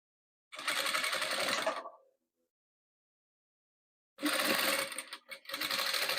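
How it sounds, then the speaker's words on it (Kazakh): A sewing machine stitching patchwork pieces, whirring in two close, steady bursts separated by a few seconds of silence, the second run briefly stuttering before continuing. "Енді тағы былай тігеміз."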